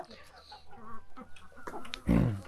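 Minorca and Barbezieux chickens cluck softly in the background, with a louder burst of clucking near the end, under faint voices.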